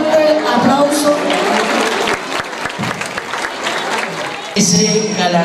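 An audience at a school cultural gala applauds for the top-scoring student, loud dense clapping that dips briefly midway then swells again, with voices underneath.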